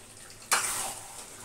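Liquid poured into a pan of mutton curry to make gravy, a sudden splashing gush that settles into a steady close rush and slowly fades.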